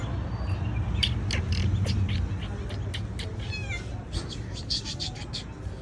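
A cat meows repeatedly in short, high cries over background noise and a low hum, with a person talking nearby.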